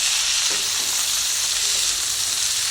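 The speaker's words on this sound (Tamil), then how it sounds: "வெங்காயம் ஓரளவுக்கு நல்லா வதங்கிடுச்சு. இப்போது நம்ம தக்காளி போடுறோம்." Onions and tomatoes sauté in a pan for a peanut chutney, giving a loud, steady broadband sizzle throughout with a few faint stirring scrapes and no talking.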